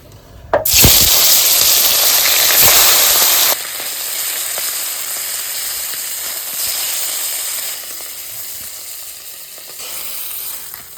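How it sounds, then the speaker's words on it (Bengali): Pomfret fish drops into hot oil in a wok and sets off a loud, close burst of sizzling. The hiss then settles into a steadier, somewhat quieter crackle that carries on for several seconds, with no voices. "তেলটা গরম হয়ে গেছে এখন মাছটা আমি ভেজে নিচ্ছি"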